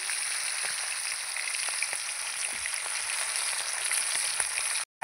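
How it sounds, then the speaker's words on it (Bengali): A snakehead fish head frying in hot oil gives a dense, continuous crackling sizzle, loud and close, with scattered pops and a brief cut near the end. "তেল গরম হয়ে গেছে, আমি প্রথমে মাছের মাথাটা দিয়ে দেবো। প্রথমে মাছের মাথাটা ভাজবো, তারপরে মাছগুলো ভাজবো।"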